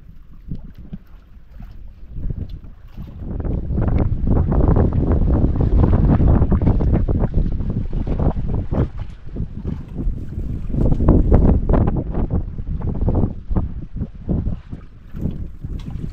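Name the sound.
fishing boats out at sea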